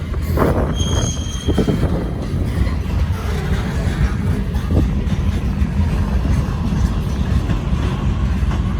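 A freight train with a tank car rumbles past loudly and continuously, wheels grinding and squealing on the rails, with no voices.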